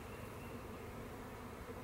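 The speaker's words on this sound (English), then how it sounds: "They're buzzing all around me. Be mindful of the bees." Honey bees from a swarm that has just been moved into an apiary, heard as a dense, steady buzzing drone that fills the air all around at close range, with no voices.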